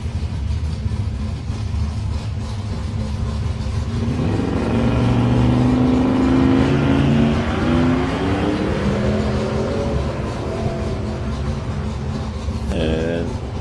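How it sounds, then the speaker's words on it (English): Drag strip launch of an orange HJ Holden with a 308 V8 in lane 1 and a white VN Commodore with a 6-litre engine in lane 2: loud engine roar building and revving steadily under continuous commentary and crowd noise. "in lane 1 we got Paul Clifford in his orange HJ Holden with a 308, and lane 2 in a white VN Commodore is Luke Pace"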